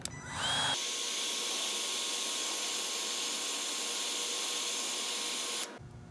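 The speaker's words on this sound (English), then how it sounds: "Then we're going to go ahead and take a heat gun." Heat gun shrinking a shrink-wrap butt connector while wiring Ford F-150 tow mirrors: a steady, loud blowing roar switches on after a moment, holds evenly for about five seconds, then cuts off.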